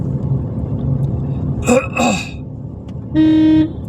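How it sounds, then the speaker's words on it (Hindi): A car horn sounds in a couple of quick honks, then one longer blast, over a low engine rumble inside a vehicle. "हॉर्न बजा दीजिए"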